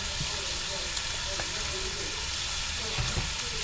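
Food frying in a pan, a steady broad sizzle and crackle close by with small pops and occasional stirring clinks, continuous and even throughout.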